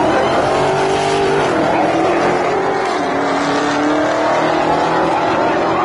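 Dodge Hellcat making a drag racing pass at a Mopar Sunday event, a loud, sustained engine roar climbing in pitch as it accelerates down the strip, with crowd noise underneath.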